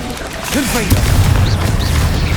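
Confringo blasting spell in the Hogwarts Legacy video game, a single booming explosion with rumbling low end, followed by fizzing magical sounds; a voice calls out just before the blast.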